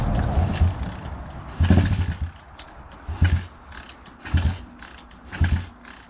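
An Apollo RFZ 110 dirt bike is tried on a cold start at 27 degrees Fahrenheit, with five separate mechanical bursts about a second apart. Each is a short rattling, churning surge that fades back to quiet between attempts.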